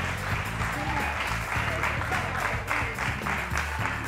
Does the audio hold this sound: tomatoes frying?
no